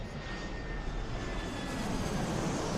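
Steady, loud roar of a passenger airplane's engines heard from the cabin, a continuous broadband drone without pauses.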